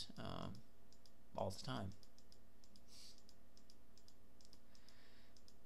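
Faint computer mouse clicks hit tuning buttons in BorgWarner MatchBot turbo-matching software, coming as scattered single and paired clicks under quiet speech.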